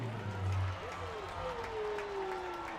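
Baseball fans at PeoplesBank Park cheer and make noise while waving towels, a broad steady crowd roar heard under a play-by-play announcer's talk.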